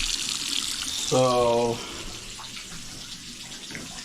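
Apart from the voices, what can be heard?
water running from a bathtub tap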